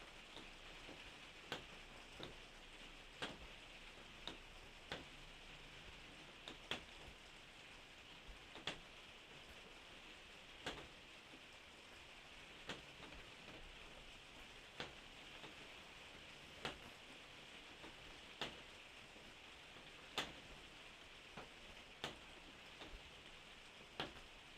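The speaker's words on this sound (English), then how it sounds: "The rain has been really heavy here." Heavy rain falling outdoors makes a steady, faint, even hiss, with sharp drip ticks scattered irregularly throughout, and no voices.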